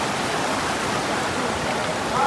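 A waterfall among rocks on a hill gives a loud, steady, broad rush of falling water that fills every moment without a break.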